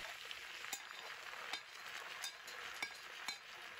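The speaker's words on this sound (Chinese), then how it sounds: "炒杏鲍菇时必须大火爆炒" King oyster mushrooms stir-fry over high heat in a pan, giving a faint, steady sizzle broken by a few sharp clinks of a spatula against the metal at irregular intervals.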